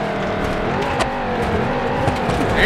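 A worn-out square-body truck engine with a sporty muffler in BeamNG.drive, off-roading over rocks: a steady, close exhaust drone with wavering pitch throughout, rising slightly in loudness at the end.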